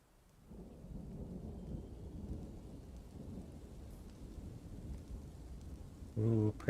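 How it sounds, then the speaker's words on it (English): Rain falls steadily in a video game, a continuous wash of downpour with low rumbling thunder rolling underneath, followed by a brief louder burst near the end. "Ooh, pretty rain sounds."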